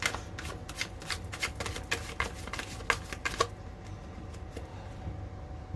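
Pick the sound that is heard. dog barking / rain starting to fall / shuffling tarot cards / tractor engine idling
shuffling tarot cards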